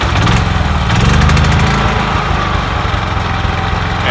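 A generator mounted on a freight truck runs steadily at close range, a constant engine drone with a mid-pitched hum and light vibration and no talk over it.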